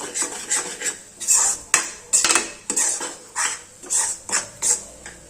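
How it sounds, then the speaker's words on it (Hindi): Besan and mawa stirred nonstop in a kadhai for burfi, a spoon scraping the metal in a quick, steady series of about a dozen rhythmic strokes with clinks, close and clear, with no talking. "ये देखिए रुकना नहीं है, हमें लगातार इसे 1 मिनट के लिए चलाना है"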